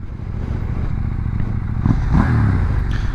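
A KTM 890 Duke R motorcycle engine runs steadily up close, with a brief rise in revs and some mechanical clatter near the end.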